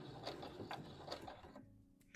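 A sewing machine stitches fabric for a Vogue V2000 DVF wrap dress, a faint, close mechanical whir with a steady rhythmic needle clatter for a couple of seconds before it briefly stops, no talking.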